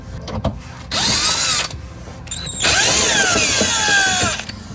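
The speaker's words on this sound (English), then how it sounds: "Also got to remove this little plastic nut here and these little retaining screws for the heat shield here." Two bursts of a cordless power drill driving out the small retaining screws of a heat shield on a 2011 BMW 335i E90, each run whining up in pitch, close and loud with brief pauses between.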